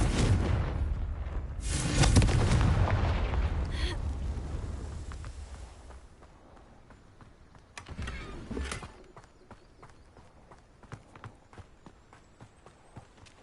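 Confringo fire spell explosions in the video game Hogwarts Legacy: a loud whooshing blast that fades out, a second shorter burst, then a series of sharp, scattered clicks and thuds.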